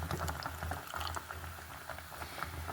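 A thick aloe vera soap mixture pours close by with soft bubbling and gurgling, a steady wet sound with small irregular splashes and no voices.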